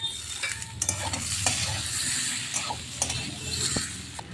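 Small homegrown green chillies and tomato go into a hot pan of fried potatoes for a fish curry, and a bright sizzle runs under sharp clicks and scrapes of a stirring utensil.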